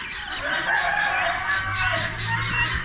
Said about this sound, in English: Some black hens.